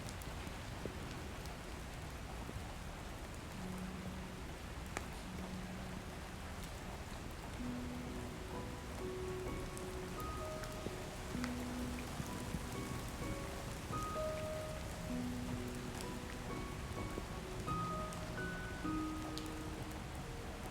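Steady rain falls on surfaces in the game Love and Deepspace, a soft, constant patter of drops lasting the whole stretch, with faint scattered tones over it and no voices.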